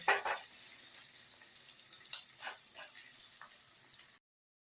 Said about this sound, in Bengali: আমার আলু এবং পেঁয়াজগুলো ভাজা হয়ে গেছে